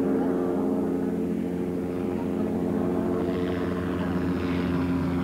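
A helicopter hovers over Hornhead during the 1988 Donegal International Rally, giving a steady, loud droning rotor and engine hum that stays constant throughout with no pauses.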